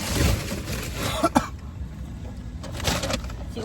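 A person clears their throat and coughs indoors, a couple of short, rough bursts up close, followed by quieter room noise and a faint later rustle.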